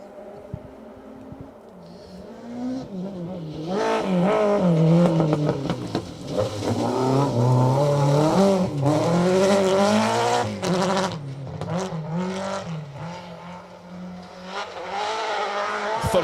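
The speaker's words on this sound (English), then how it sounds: "thunderous engine note from that BMW" A loud, roaring BMW M3 rally car engine revs hard and climbs through the gears at the RAC Rally, with brief tire squeals and a steady, thunderous drone close by.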